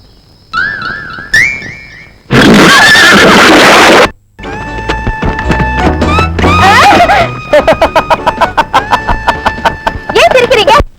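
Horse neighing amid a Tamil action film soundtrack, with loud whinnies and rooster-like crowing among busy music and effects, several sharp repeated bursts toward the end.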